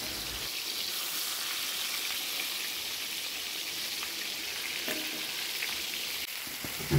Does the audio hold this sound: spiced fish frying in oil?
yes